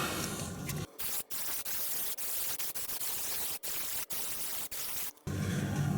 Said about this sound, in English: let's spray it again